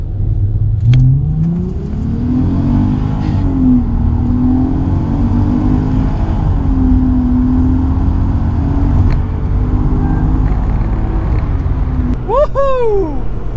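An Audi A3 3.2 V6 and an EP3 Civic Type R accelerate hard side by side: a loud engine drones and rises through gears, with excited voices over it and a sharp sweeping whine near the end.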